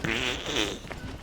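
A voice imitates a fart with the mouth, a short buzzing raspberry of about a second heard alone.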